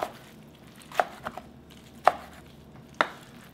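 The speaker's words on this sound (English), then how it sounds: "We have to squeeze out and cut it into bite size." A knife chops soaked seaweed into bite-size pieces on a board, giving four crisp, separate cuts about a second apart with a couple of lighter taps between, close and clear.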